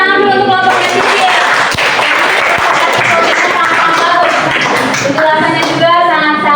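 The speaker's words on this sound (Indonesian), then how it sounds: "tepuk tangan dulu untuk kelompoknya Sisil" A Grade 11 geography class applauds a student group after its presentation. The clapping is dense and sustained, and voices mingle with it throughout.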